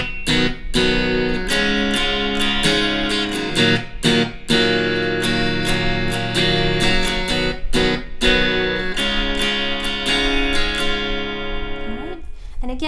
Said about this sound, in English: I would recommend muting your strings after each down strum in the beginning part